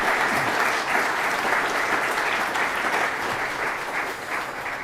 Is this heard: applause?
yes